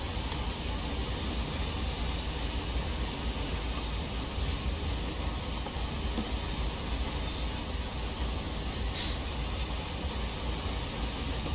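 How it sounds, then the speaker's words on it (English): A CSX freight train led by a Dash-8 locomotive rolls on the Sand Patch line, its wheels grinding steadily on the rails in a loud, continuous roar that holds for the whole stretch. "this must be a flange sound"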